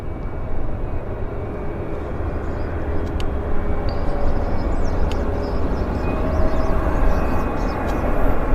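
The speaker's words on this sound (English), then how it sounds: "First 777 landing of the show." A Boeing 777 airliner landing, heard as a loud, steady roar of engine and wind noise that builds slightly over the whole stretch, with no pauses and no speech.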